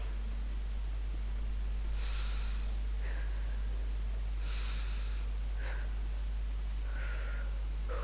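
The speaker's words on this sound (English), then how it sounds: "We stop, we think, and we breathe." A character from The Walking Dead game takes slow, deliberate breaths to calm down, several audible inhales and exhales spaced a second or two apart over a steady low hum, with no speech.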